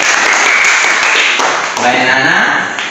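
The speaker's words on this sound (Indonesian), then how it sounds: "Tepuk tangan buat Zona dulu" Classroom applause for a student after a closing prayer, a dense, steady patter of many hands clapping that carries on for about three seconds and slowly fades, with children's voices mixed in.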